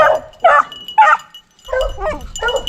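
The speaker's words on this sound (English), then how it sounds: "Sitting there barking at me." A hunting dog on a rabbit hunt barks and yips in several sharp bursts, close and loud, with short pauses between them and no talk over it.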